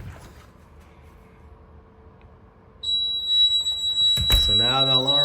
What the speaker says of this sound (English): So now the alarm sounds.